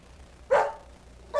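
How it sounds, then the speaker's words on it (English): A single loud dog bark stands alone, followed by the start of a second bark right at the end, over a quiet background. "Nope, it was a dog, wasn't it?"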